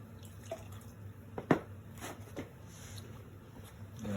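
Water and clay slip are sopped up from a freshly thrown mug on a square bat insert, giving soft wet squishes and drips, quiet and close, with one sharper wet tap midway.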